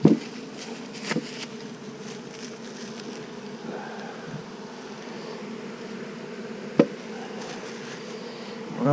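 Honey bees buzz at an open hive while feeding on patties, a steady droning hum, close and continuous, with a few soft knocks and clicks breaking through.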